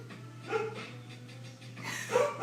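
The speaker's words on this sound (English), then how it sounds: "That's my doggie." A pet dog indoors lets out two short barks about a second and a half apart over a steady low electrical hum, with softer breathy sounds between them.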